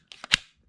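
Toy pump-action gun on a Hasbro Power Rangers Ninja Steel Rockstorm Guitar toy, a quick plastic double click followed by one sharp snap, close and brief.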